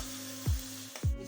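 Fried chicken roasting with masala in a pan: a steady, close sizzle runs throughout over a low hum, broken by two dull knocks, as of a spoon against the pan.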